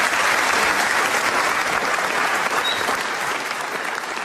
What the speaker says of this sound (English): a rare applause for a brilliant company